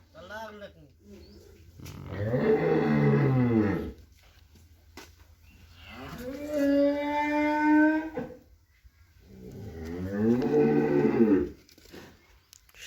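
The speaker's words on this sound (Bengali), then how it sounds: "সব দিকে শুধু গরু" Cattle at a busy cattle market low out in three long, drawn-out moos, each lasting around two seconds, spaced evenly apart and loud against a quiet background.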